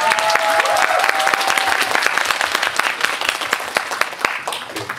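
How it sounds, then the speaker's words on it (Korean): An audience at a film festival Q&A claps for a location PD, dense applause that starts full and thins into scattered individual claps. "박수 한번"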